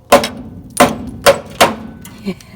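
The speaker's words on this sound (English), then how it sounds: "See if we can beat that out of there now. Just brought out a body hammer." Five hard hammer blows from a body hammer on sheet metal of a 1958 VW Bus, close and loud, falling in an uneven rhythm, the last one lighter.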